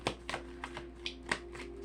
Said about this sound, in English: I'll pause in between me shuffling as well so that you don't have to